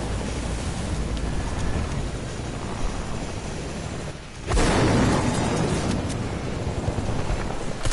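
Grenade blasts in a Fortnite match, a dense roaring boom that drops away briefly and then surges back loud and sustained, filling the mix.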